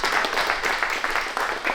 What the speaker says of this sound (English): let's give a round of applause for David Escamilla and Ivan the Great for coming through